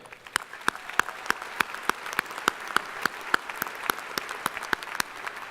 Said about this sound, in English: Let us give a round of applause to those emeriti faculty and administrators